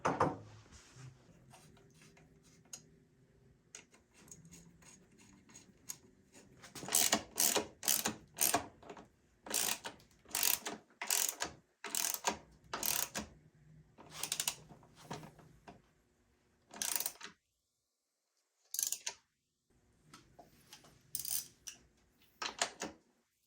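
A ratchet tightens a bolt on a 2023 Beta Xtrainer motorcycle, making bursts of close, rapid clicking strokes separated by short pauses, with quiet handling noises in between.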